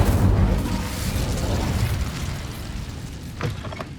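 Incendio fire spell cast in Hogwarts Legacy, a loud whooshing roar of flame that rises at once and slowly dies away, with a brief crackle near the end.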